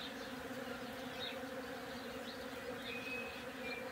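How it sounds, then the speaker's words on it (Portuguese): Steady, dense buzzing of many European honey bees swarming close by, continuous with no pauses. "Abelhas Europa."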